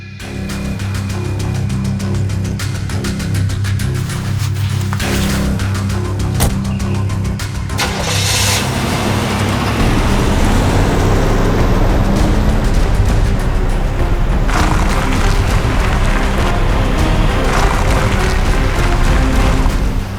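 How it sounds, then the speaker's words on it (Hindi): A car engine starting and driving, a loud rumbling roar with an abrupt surge partway through and then a steady heavy drone, mixed with dramatic booming. "गाड़ी चलाओ।"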